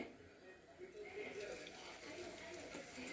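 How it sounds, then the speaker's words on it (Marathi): Cumin and sesame seeds crackle in hot oil for a quick mixed vegetable dish, giving a steady, dense spitting crackle that holds for about three seconds. "बघू शकता जिरे तडतडले."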